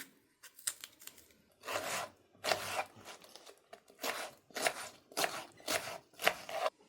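A knife slices through tomato on a board, a run of quiet, close strokes coming faster toward the end.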